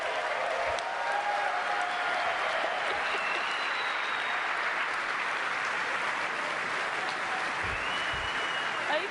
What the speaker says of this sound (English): Oh, you can keep clapping.